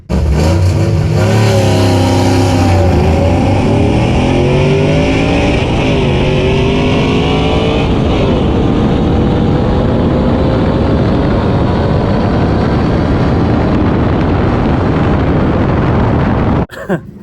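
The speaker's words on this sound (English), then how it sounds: "I've never raced Cody's Jeep before, so this was a first for me" A Jeep racing in an elimination round at an open-road event: loud, sustained engine roar with rising revs through the gears, the note climbing and shifting, then holding at high speed before cutting off near the end.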